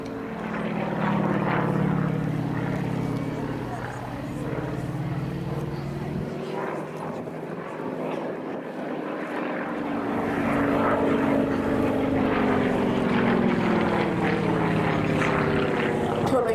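A propeller aerobatic plane with a smoke system flies a loop at an air display, its engine droning and shifting in pitch as it climbs and turns, heard at a distance under a commentator's voice.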